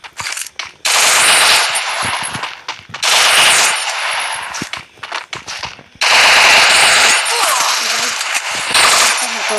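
Rapid automatic gunfire fills a video game match while the player aims for headshots. Loud, dense bursts rattle close by in long volleys, broken by brief pauses before firing resumes.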